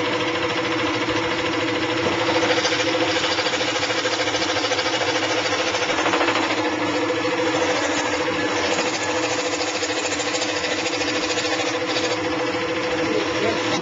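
A fret saw machine cuts wooden lattice in a fine woodcraft shop, giving a loud, continuous mechanical buzz with a rapid reciprocating chatter that stays steady throughout, with no voices.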